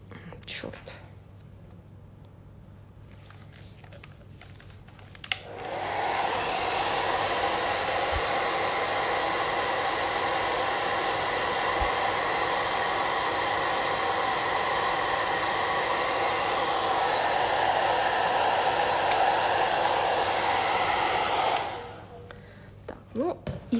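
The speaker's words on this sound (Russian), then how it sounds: "Берем фен теперь и сушим феном." A hair dryer switches on after a few seconds, blows loudly and steadily for about sixteen seconds, then cuts off, with faint handling sounds around it.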